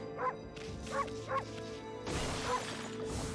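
A wolf in Okami HD gives three evenly spaced sharp barks, loud and close, over a continuous game music bed that swells louder in the second half.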